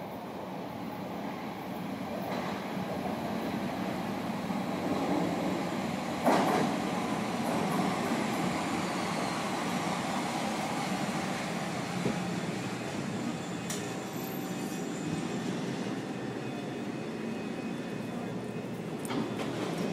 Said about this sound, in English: All right, here comes train.